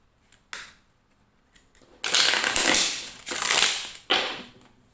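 Tarot cards being shuffled close by, a couple of quick riffles then longer rustling bursts, loud and crisp with short pauses between.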